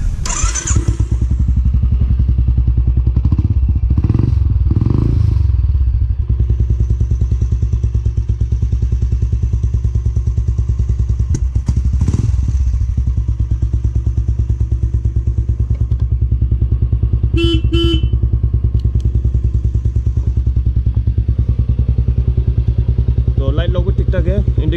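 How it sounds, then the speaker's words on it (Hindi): A 2021 Royal Enfield 350 motorcycle in tip-top condition starts and settles into its low, steady thumping idle, with a few revs and clatters early on, heard up close throughout. "अभी मैं आप लोग को बाइक स्टार्ट करके सुनाता हूँ।"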